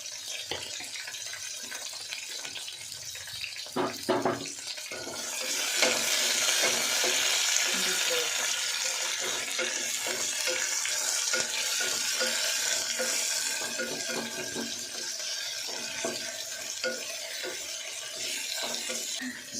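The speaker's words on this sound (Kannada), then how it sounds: "ಈಗ ಇದೇ ಟೈಮ್ಗೆ ಮೆಣಸಿನ್ಕಾಯಿನ ಹಾಕ್ಕೊತಾ ಇದ್ದೀನಿ." Green chillies sizzle in hot oil in a home kitchen pan while being stirred; scattered scrapes and taps of the spoon come first, then the frying swells into a loud, steady crackling hiss that holds to the end, with no talking.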